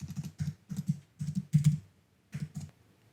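Quick bursts of keystrokes on a computer keyboard while a site URL is entered, close and fairly quiet, in several short runs with brief pauses between them.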